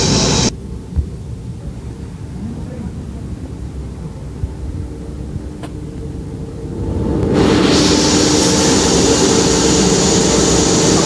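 Industrial washing machine running in a hotel laundry at Gran Melia Hotel Jakarta, a steady droning hum that grows louder and brighter partway through, continuous with no talking.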